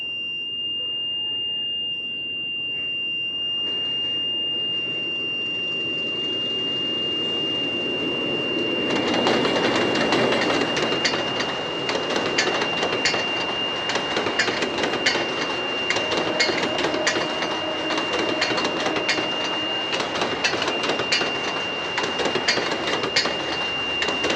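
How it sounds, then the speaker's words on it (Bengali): A train departs and approaches at dawn, its rumble and rattling wagons swelling from a quiet start into a steady, loud clatter that continues to the end, with a thin steady tone running throughout. "ভোরবেলায় একটা ট্রেন ছেড়ে আসতেছে"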